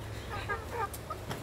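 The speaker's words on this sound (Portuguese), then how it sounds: "Mas olha quanta galinha que tem." Backyard chickens cluck in short, scattered bursts at moderate distance, several hens calling over a steady low background hum.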